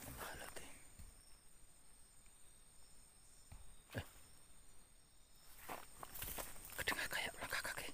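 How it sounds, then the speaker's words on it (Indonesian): Footsteps crunch at night in the woods, a few soft steps spread through a quiet backdrop of steady insect and cricket hum, growing a little busier toward the end. "Kedengar kayak langkah kaki."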